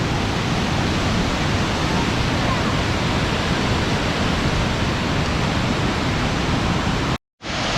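Nadara Falls on Mount Rainier roars as a dense, continuous wash of falling water, loud and close, until the sound cuts off abruptly just before the end.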